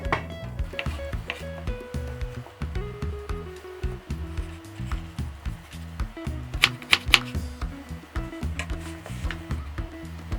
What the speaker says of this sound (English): I will now cut my garnishing down whilst waiting for the rice to cook.